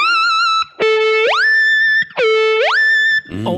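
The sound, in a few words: electric guitar through Kemper Profiler pitch shift effect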